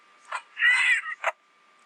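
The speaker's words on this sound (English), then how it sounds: "Let me click on Rockstar Fox's bird" Rockstar Foxy's parrot in Ultimate Custom Night, the Five Nights at Freddy's video game, giving a short squawk framed by two brief chirps, close and clear against near silence.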